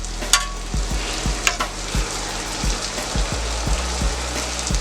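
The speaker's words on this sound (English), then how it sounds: "So we're going to put my onions back here." Onions sizzle on a Steelmade steel griddle with a steady hiss of frying, while a metal spatula scrapes and taps the surface in a regular rhythm of about two strokes per second, close and clear with no talk.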